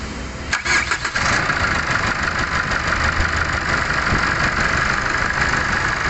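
A Chevrolet Trailblazer engine, clutch fan just repaired, cranks and catches with a few sputtering turns, then settles into a steady, close idle hum.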